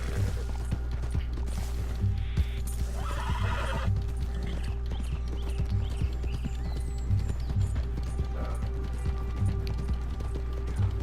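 Horse whinnies and clip-clopping hooves in the open-world western game Red Dead Redemption 2, with steady hoofbeats running under a constant background hum and a louder neigh partway through.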